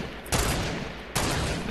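Two bursts of rapid video game gunfire, each a dense, loud volley of shots close by, the second starting just over a second after the first.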